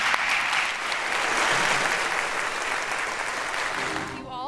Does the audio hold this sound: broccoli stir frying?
no